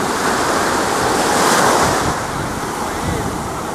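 Ocean surf washes onto a beach at Olbia, Sardinia, a steady broad rush of breaking waves with some wind buffeting the microphone, swelling slightly midway and continuing without voices.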